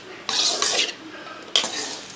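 Egg rice being stirred in a pan, a few scraping, clattering strokes of a spoon against the metal at close range, with short pauses between them.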